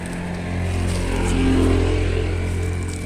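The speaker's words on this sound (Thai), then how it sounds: "จะมีเสียงรถมอไซค์ครับ" A motorcycle passes nearby outdoors beside a garden where a tamarind bonsai is planted in the ground, a steady engine drone swelling to a peak midway and easing off again, with no talk.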